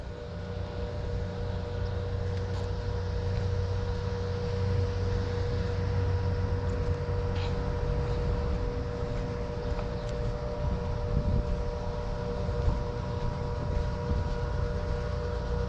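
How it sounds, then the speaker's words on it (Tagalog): Electric motor water pump running steadily while irrigating a field of chili and tomato plants, a continuous mechanical drone with a constant hum throughout, no talking. "electric motor na nga po ang gamit natin"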